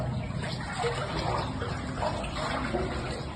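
Water sloshes and splashes continuously as someone wades through the shallow, enclosed stone passage of Hezekiah's tunnel, a steady, close trickling and churning with no pauses.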